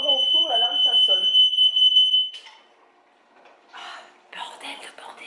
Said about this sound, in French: L'alarme incendie, j'ai les poivrons au four, l'alarme ça sonne.